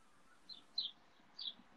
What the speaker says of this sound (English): Listen to the birds in your garden.